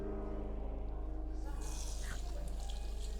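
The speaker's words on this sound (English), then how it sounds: "So this tap runs. This tap runs." A tap runs in a student toilet at a pharmacy faculty, a steady close hiss of flowing water that swells brighter midway through, with a low hum underneath.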